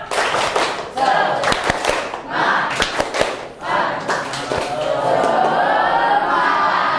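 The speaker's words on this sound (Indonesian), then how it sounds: "Oke, tepuk semangat." Schoolchildren in a classroom perform the rhythmic tepuk semangat clapping chant, loud patterned claps and sharp slaps mixed with group voices shouting along, ending in a sustained crowd of chanting children.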